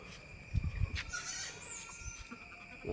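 A milking goat gives a faint, brief bleat over quiet outdoor background noise, with a few soft thumps nearby.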